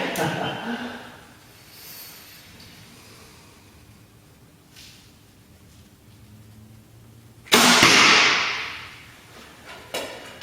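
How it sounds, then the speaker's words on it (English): A single shot from a Hoyt Carbon Spyder Turbo compound bow sends an arrow off with a sudden broad swish that trails away over about a second. Quiet outdoor ambience comes before it, and a faint knock follows later. "Very fast arrow. I wish you could see the arrow screaming down there."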